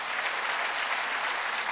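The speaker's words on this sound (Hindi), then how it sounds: "ध्यान रखना, आपकी तालियां बताएं।" An audience at a spiritual discourse claps steadily in a dense burst of applause that lasts under two seconds, sounding fairly distant and even throughout.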